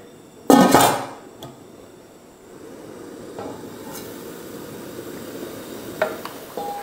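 A lid clanks loudly onto a cooking pot of pancit canton in one sharp metallic hit, followed by a low simmering hiss and a few faint later taps.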